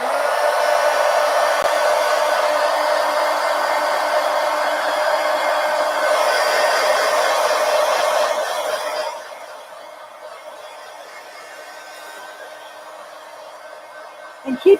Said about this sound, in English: keep your heat gun moving because these pages, these glossy pages can melt